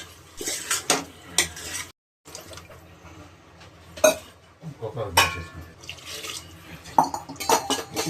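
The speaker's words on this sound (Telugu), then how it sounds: "ఈ పెరుగుని వేసి కలిపేయాలి" Yogurt being stirred into potatoes in a metal pot for biryani, irregular spoon clanks and scrapes against the pot with short pauses, close by, with faint background voices at times.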